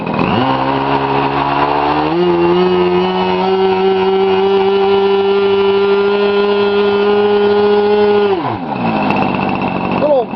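A Como 40 nitro RC model engine runs loud and steady, with a high buzzing whine that climbs in pitch, holds at a sustained high speed, then drops off sharply before picking up again.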